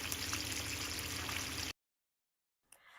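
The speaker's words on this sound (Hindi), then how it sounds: "तो फ्लेम को लो टू मीडियम करके इसे अच्छे से फ्राई कर लेना है।" Chicken sticks frying in a pan over low to medium flame, a steady hissing sizzle that cuts off abruptly into silence, then returns faintly just before the end.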